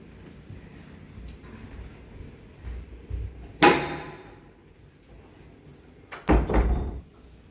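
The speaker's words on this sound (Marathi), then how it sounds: "मी दरवाजा लावून घेतो" Indoors, a door closes with a sharp, close bang, and about three seconds later a heavier double thud follows over faint room noise.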